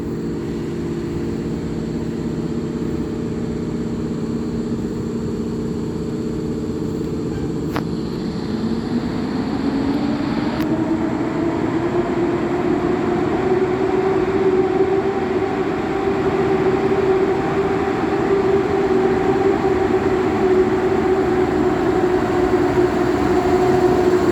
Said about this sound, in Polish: Świnka EP08007 z pociągiem Intercity Pomorzanin ze stacji Wrocław Główny do stacji Gdynia Główna rusza ze stacji Poznań Główny